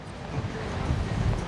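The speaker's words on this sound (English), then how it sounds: "This wind is keeping the temperature down" Wind blows across a sandy beach in August, a steady broadband rush and microphone buffeting that swells slightly toward the end, with no voices.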